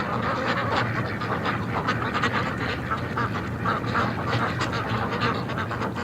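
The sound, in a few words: ducks going into the water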